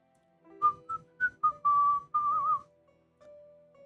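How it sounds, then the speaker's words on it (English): Someone whistles a short tune of clear, bright notes, a few quick ones and then longer held tones, with no talking. "I don't know what I was whistling."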